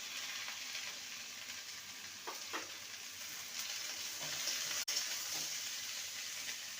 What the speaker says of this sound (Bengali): গ্যাসের ফ্লেমটাকে লোতে রেখে কাঁকরোল আর আলুকে ভালো মতন ভেজে নেব